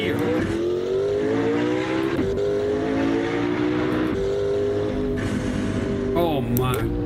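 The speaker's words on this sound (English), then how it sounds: "when you let off the gas, the sound it makes when it's gearing down and that boost" A turbocharged race car in Assetto Corsa roars steadily, its engine pitch stepping down through gear changes with turbo boost whooshes and a brief squeal near the end, loud and continuous.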